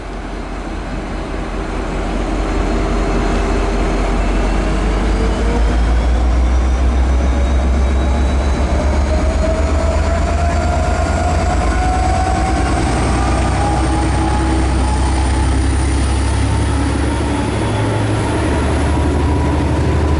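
A V/Line N class diesel locomotive departs South Geelong station, its heavy low engine rumble building as it pulls away, with rising whine and rail clatter, loud and close, no voices.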